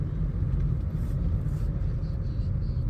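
A car engine's low, steady rumble holds close and even throughout a gear change, with no clear speech over it.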